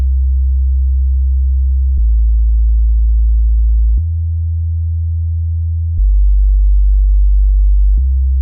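A solo sub-bass sine synth plays a slow line of sustained low notes, each held about two seconds before stepping to the next pitch, smooth and pure with nothing else sounding.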